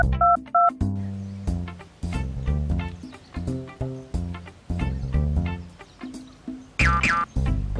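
Phone dialing tones open the moment, a couple of short dual-tone beeps in a Telugu comedy scene, then music carries on with more beeps near the end.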